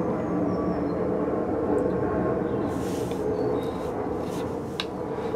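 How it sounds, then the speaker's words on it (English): An airplane passing overhead outdoors makes a steady, loud broadband roar that fills the clip, with faint higher hisses near the end and no talking. "I'm just gonna wait for this plane to go overhead"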